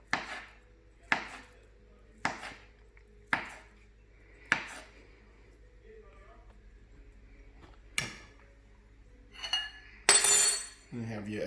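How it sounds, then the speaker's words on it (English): A knife chopping Spam into cubes on a board, with sharp evenly spaced chops about once a second, then a pause and a few clinks and scrapes of a dish, close and clear with no talk. "I'm just going to cut them again and get me a little bit more"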